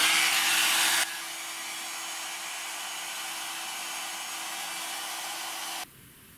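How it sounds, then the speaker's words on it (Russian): An ordinary hair dryer blows on heat-shrink tubing with a steady whooshing roar and a faint hum, loud at first, then settling slightly lower before cutting off near the end. "фен обычный, никакой не строительный"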